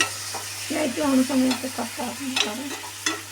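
Chicken pasta sizzles in a hot pan while being stirred, a close, continuous frying crackle broken by scraping strokes of the spoon.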